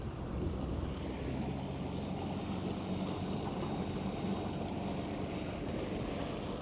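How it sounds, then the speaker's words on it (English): A Grand Soleil 40 sailboat motoring at maximum revs, 2,900 RPM, with a two-blade propeller: a steady, continuous wash of water and wind noise over a low engine drone, with no talking. "the boat's motoring nicely, you know, with a 2-blade Gory propeller"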